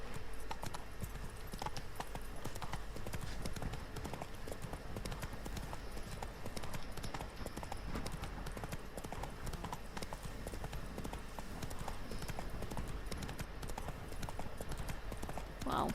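Horse hooves clip-clop in a steady, continuous rhythm in the video game The Witcher 3: Wild Hunt, several horses moving together at a walk, faint and even throughout.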